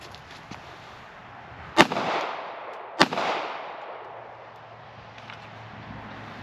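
Two sharp 9mm pistol shots with standard 115-grain ball ammunition are fired at soft body armor, about a second apart, each a loud crack followed by a fading outdoor echo, with no talking.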